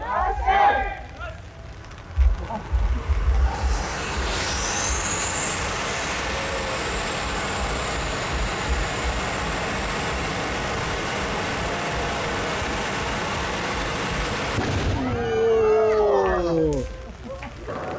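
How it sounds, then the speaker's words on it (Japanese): Handheld tezutsu iron-tube fireworks at a festival in Mie Prefecture, Japan, spray with a loud, sustained hissing roar for several seconds, cutting off abruptly, followed by excited shouting and crackling. "鉄筒花火だけ見てもらおう"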